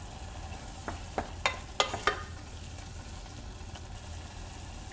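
Tomatoes cook down in a pot for ful, giving a quiet sizzle broken by a handful of sharp pops and spatters in quick succession, then settling into a low bubbling simmer.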